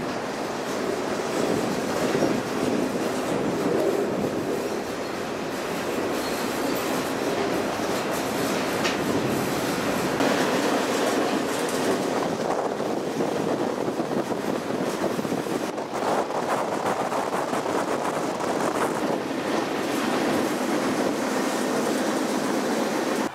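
A cargo freight train in Saskatchewan, Canada, rumbles continuously with clattering wheels, metallic rattling and occasional squeals, heard from on board as a loud, steady roar.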